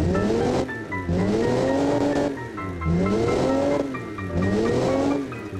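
A 1916 Pikes Peak race car with a 16.2-litre engine revs repeatedly in BeamMP, the loud, close engine note rising and falling in about four long, deep swells with a rough throaty drone.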